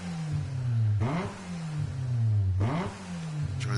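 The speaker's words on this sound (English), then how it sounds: "Enjoy the sound of that nice little S2000" A Honda S2000 in the Gran Turismo racing game revs hard twice, each run climbing in pitch and then dropping back with a sharp shift, loud and close with no talking.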